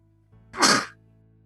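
A single sharp sneeze bursts out close and loud in the middle of a quiet moment, brief and breathy with a hissing tail.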